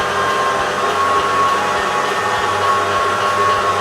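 An electric mixer creams butter and sugar for cookies, giving a steady, loud whirring drone that holds unbroken throughout, close up with no talking.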